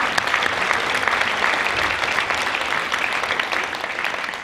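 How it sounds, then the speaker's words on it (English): Audience at a high school hall of fame induction ceremony breaks into sustained, full applause, a dense even wash of many hands clapping that fades slightly at the end. "Why don't we just, before I finish, a round of applause for that alone,"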